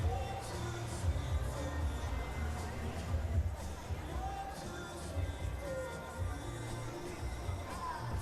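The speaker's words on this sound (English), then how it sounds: "This is a nervous crowd waiting for the numbers" Nervous arena crowd at a gymnastics World Challenge Cup murmurs while awaiting scores, a steady low babble of many distant voices with scattered shuffling and chatter, moderately faint throughout.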